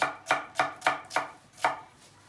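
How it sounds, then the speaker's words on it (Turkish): An onion being chopped on a cutting board, six crisp knife strikes in a fairly even rhythm, close and clear, with no talk. "Soğanını doğruyoruz."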